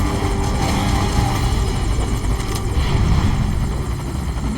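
Helicopter in Metal Gear Solid V: Ground Zeroes, a loud continuous rotor chop and engine drone holding steady throughout, close and dominant with no speech.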